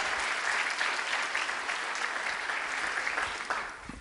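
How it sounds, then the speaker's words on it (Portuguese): A church congregation applauding together, a sustained dense patter of many hands clapping at moderate volume for about four seconds before tapering off. "Irmãos, aplauda o Senhor Jesus aí"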